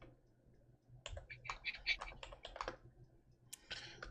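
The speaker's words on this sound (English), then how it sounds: "Why am I typing that?" Close computer keyboard typing in irregular bursts of quick clicks, moderately loud, with short pauses between runs and no talking.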